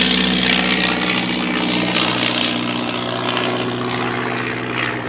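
A vintage propeller airplane passes overhead in a flyby above a castle's flower gardens, a loud, steady droning engine roar that stays strong throughout with a slight fade at the end.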